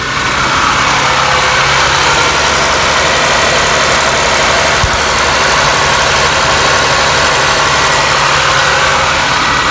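A Toyota Camry V6 idles roughly after its battery was disconnected, and the loud, close engine drone holds steady with a low vibrating hum throughout.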